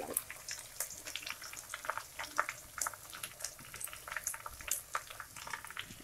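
Onion and curry leaves fry in oil for an eggplant and coconut tamarind kootu, giving a soft, steady crackle and spatter of small pops, fairly faint and with no talking.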